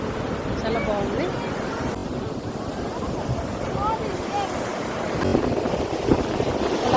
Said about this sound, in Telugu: అలలు వస్తున్నాయి అన్నమాట